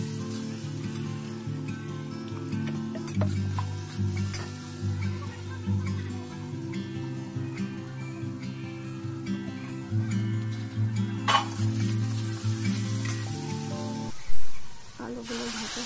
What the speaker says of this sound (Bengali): আলুতে নুন হলুদ দিয়ে ভালো করে লাল লাল করে ভেজে নেবো।